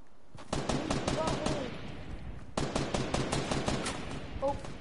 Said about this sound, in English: No, they're shooting at him.